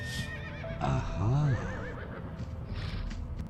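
A horse in the Limbo of the Lost video game gives a short, loud whinny with wavering pitch, close by, while a person speaks briefly over it.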